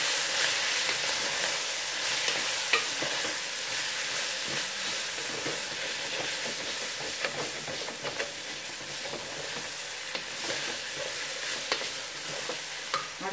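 Curry masala powder is stirred into a hot pan for a semolina kichdi biryani, giving a steady oily sizzle with scraping spoon strokes throughout, close and moderately loud, with no voices.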